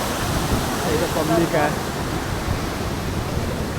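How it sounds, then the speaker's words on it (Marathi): Roaring rush of a monsoon waterfall at Padsri, heard close as steady broadband white-noise water cascade, with brief talk from people nearby partway through. "तर हा बघा तो वॉटरफॉल"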